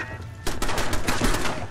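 Automated gun turret firing in Fallout 4, a rapid burst of close, loud shots that starts abruptly after a short quiet lead-in and keeps rattling with a steady rhythm to the end.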